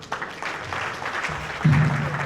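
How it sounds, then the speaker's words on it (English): Audience members at a goodwill messages event clap for Ambassador Philip Ajomiwe, with moderate, steady applause that swells slightly toward the end, while a low voice murmurs underneath. "Please, can you help me clap for him?"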